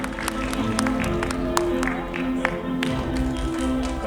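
Steady applause from an audience at a Thai charity concert fashion finale, a continuous dense patter of clapping with music and a host's voice running underneath.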